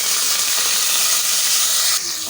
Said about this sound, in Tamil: இஞ்சி பச்சை மிளகா கருவேப்பிலை மூணுத்தையும் நம்ம இதில் சேர்த்துடலாம்